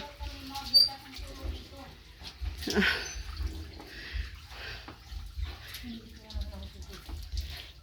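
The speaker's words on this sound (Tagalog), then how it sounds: "gustong gusto ni Pogi maligo, para hindi mabantot" A dog is bathed, with water splashing and pattering in irregular bursts close by while people talk throughout.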